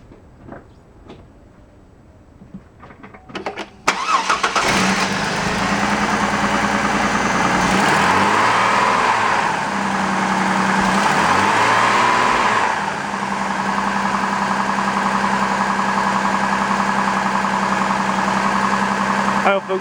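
Chevy Trailblazer engine after ignition coil and spark plug replacement: quiet clicks and handling noises, then the starter cranks and the engine catches near the four-second mark and settles into a loud, steady idle with a couple of brief rev swells.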